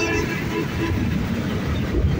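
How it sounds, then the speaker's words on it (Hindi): A train rolls past near a station in Lahore, a continuous heavy low rumble with clattering, loud and close. "तो ये जी ऑरेलैंड ट्रेन गुजर रही है"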